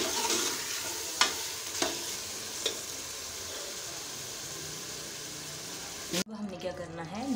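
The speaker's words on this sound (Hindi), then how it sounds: "ये मसालों को हम अच्छे से भूनेंगे।" Chilli and korma masala spices fry in a pan for chicken chana dal, a steady loud sizzle with a few sharp stirring clicks, cut off near the end by a different, quieter sound.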